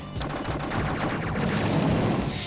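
Rapid battlecopter machine-gun fire raking a tank in the turn-based war game Advance Wars: Dual Strike, a dense, continuous burst of overlapping shots lasting a couple of seconds, loud and up close with no talking.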